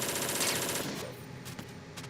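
Rapid automatic gunfire in Metal Gear Solid 2: Sons of Liberty rattles loudly at first, then fades into a softer, steady backdrop with a few sharper cracks near the end.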